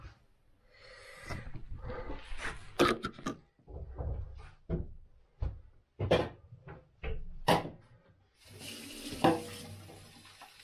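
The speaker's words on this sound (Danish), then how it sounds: "Jeg skal lige have lidt vand i." Water from a kitchen tap filling a pot, heard as several short bursts of running water broken by clunks and knocks of cupboards and pans, fairly quiet and close.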